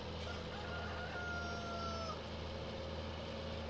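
Chickens in the farming video game Farming Simulator 19 cluck and crow faintly over a low, steady hum of background game noise.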